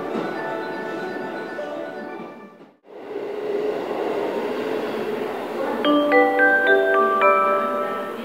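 A Kishuji Rapid train pulls into platform 18 at Tennoji station, Osaka, with a rumbling drone, a brief drop, then rising rattling and squealing brakes as it slows at the platform.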